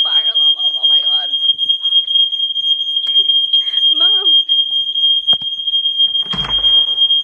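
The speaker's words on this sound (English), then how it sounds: "Set the fire alarm off" A household smoke alarm shrieks with one loud, unbroken high-pitched tone through the whole stretch, while a person talks and exclaims beneath it.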